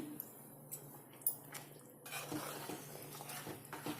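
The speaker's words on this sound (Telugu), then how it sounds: "సన్నగా తరిగిన పచ్చిమిరపకాయలు కూడా వేసుకోండి వేసుకొని ఒకసారి కలుపుకోండి" A spoon stirring chopped green chillies into chicken curry in a metal pan, with faint clinks and soft wet squishing at close range in a quiet kitchen.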